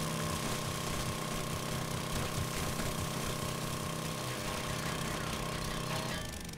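A drill running in the video game 7 Days to Die, a loud, continuous mechanical grinding drone with rattling, engine-like texture, sustained steadily throughout with no speech.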